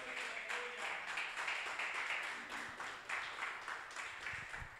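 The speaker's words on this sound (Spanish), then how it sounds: "Denle un fuerte aplauso al Señor en esta hora." A church congregation applauds during a sermon, a faint, continuous wash of many hands clapping at a distance with no voices on top.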